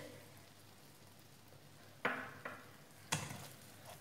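Prawns fry in tomato sauce, soy sauce and vinegar, a faint steady sizzle broken by a few sharp scrapes and clinks of stirring in the pan.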